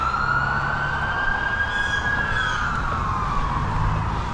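Police car siren wailing as the vehicle whizzes past on a street, loud and close throughout, with a rising and falling tone and traffic rumble beneath; no one speaks.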